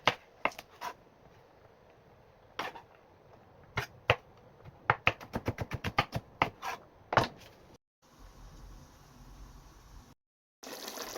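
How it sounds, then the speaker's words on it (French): Okra being chopped with a knife on a board, a series of sharp, crisp taps, scattered at first and then in a quick rapid run, close and fairly loud, followed by a quieter pause. "je vais juste découper les gombos pendant que la viande est en train de cuire"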